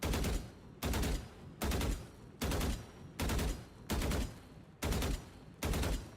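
Rifle fire in a shooting video game, eight loud, evenly spaced shots roughly 0.8 seconds apart, each a sharp crack with a short tail, with no voices.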